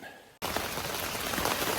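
Rain begins abruptly at a riverside campsite in northwest Wisconsin and settles into a steady, even hiss of drops falling on surfaces close by after a brief quiet moment.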